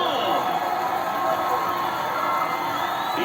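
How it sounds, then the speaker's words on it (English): A stadium crowd in the baseball video game MLB The Show 24 roars and cheers after a home run in a Red Sox game, a loud, dense, sustained swell of voices with whoops that hold steady throughout. "That's a great way to fire up this crowd. They're feeling it now."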